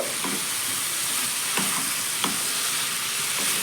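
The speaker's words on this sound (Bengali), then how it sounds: "আবারও ঢাকাটা খুলে নিচ্ছি আবার একটু আমি নেড়ে নেব" Spiced cauliflower frying in a pan, a steady close sizzle running throughout with a few soft scrapes and knocks of a spoon as the pieces are stirred.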